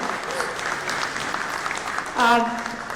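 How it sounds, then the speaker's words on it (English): A conference audience claps in a thin, steady patter of applause, with a voice breaking in briefly near the end. "So a big round of applause for the audience for being here today."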